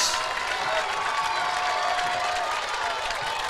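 A crowd at the Iola-Scandinavia WIAA Division 4 state softball championship game cheers and claps as it rises to its feet, a steady wash of applause and shouting from the stands with no breaks.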